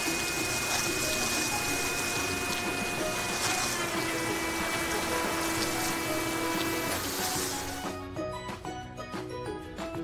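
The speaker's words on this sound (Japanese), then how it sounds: "よし、じゃあ泡を流そう。" Water sprays and splashes steadily as foam is rinsed off a truck in a cartoon car wash, a loud continuous rush that thins out and turns drippy near the end.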